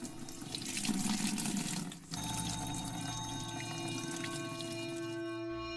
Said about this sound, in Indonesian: aku dengar suara keran air kebuka